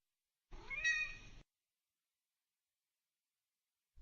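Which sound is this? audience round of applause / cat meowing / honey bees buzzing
cat meowing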